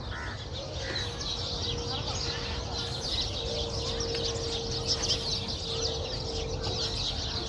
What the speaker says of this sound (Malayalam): നല്ല ചീവീടുകളുടെയും കാക്കയുടെയൊക്കെ സൗണ്ട്,